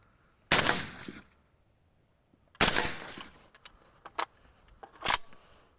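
Sharp, loud rifle shots from a Polish-made AK in 5.45x39 firing military ammunition ring out one at a time with pauses between, each followed by a brief echo, and small metallic clicks in between.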